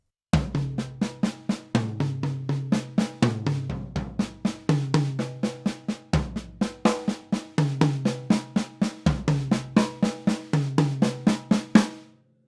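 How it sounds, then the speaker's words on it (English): A drummer plays a paradiddle-diddle sticking around the toms and snare, fast even strokes in repeating groups moving across drums of different pitch, close and clear with no talk. "So I spent a long time practicing a paradiddle diddle around the drums"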